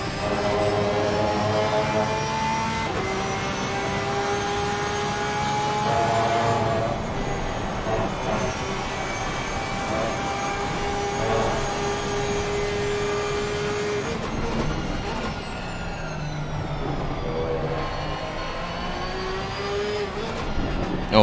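Porsche 992 race car onboard at Silverstone in a racing video game, a steady high-pitched engine whine with gear-change dips and pitch sweeps, continuous and moderately loud.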